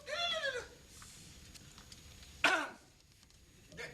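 Someone in a classroom clears their throat with a short, sharp, fairly close rasp, preceded by a brief murmuring vocal sound and followed by quiet room noise.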